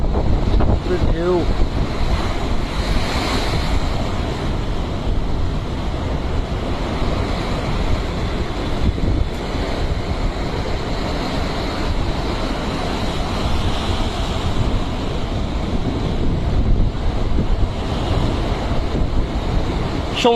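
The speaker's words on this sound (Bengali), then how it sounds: "এত উত্তাল সাগর আমি আর কখনো দেখি নাই।" Rough, storm-tossed sea waves and strong wind during Cyclone Remal form a dense, unbroken roar for the whole stretch, with heavy wind buffeting the microphone and surf surging constantly underneath.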